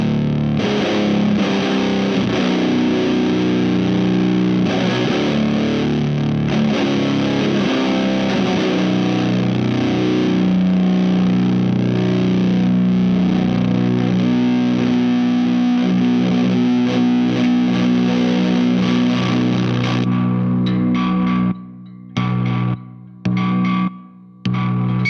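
A Mozztronics RTS-1 tone machine gives out a thick, noisy, distorted doom drone that holds steady and loud. Near the end it cuts into a few short bursts with silent gaps between them.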